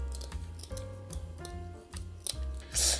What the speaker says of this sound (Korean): 위험하니까 가위로 손질해 주세요.